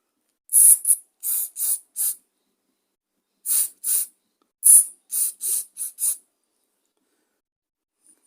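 A spray can of cleaner fires short hissing bursts into the carburetor passages of a line trimmer that sat unused for a long time: two groups of four or five quick, close, sharp puffs separated by a pause.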